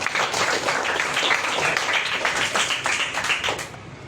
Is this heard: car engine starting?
no